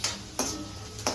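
Potatoes tipped into hot oil with frying curry leaves, giving sharp sizzling bursts at the start, middle and end over a steady close crackle of the tempering.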